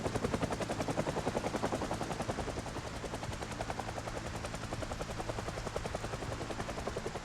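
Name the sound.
helicopter hovering overhead in the video game Project Zomboid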